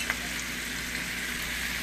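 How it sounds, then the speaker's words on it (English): Steak fajita meat sautéing in a pan, a faint, even sizzle humming along without interruption apart from one small tap at the start. "Okay, we're just going to let this saute and cook up in here."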